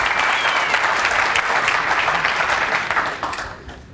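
Loud, dense audience applause fills the hall at a 9-ball pool national championship final match, sustained throughout and fading slightly at the end.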